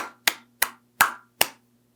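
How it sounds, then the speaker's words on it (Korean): During a stock investing talk, five sharp, separate hand claps ring out in a slow, even rhythm, close and dry, with silence between each clap. "박수."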